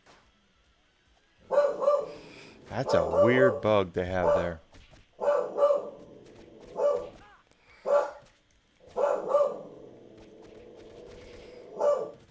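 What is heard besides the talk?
pet dog Whiskey barking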